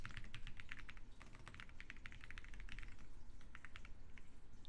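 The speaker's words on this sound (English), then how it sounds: "I'll type it right now." Rapid typing on a computer keyboard: a close, steady patter of key clicks in quick uneven bursts over a low background hum.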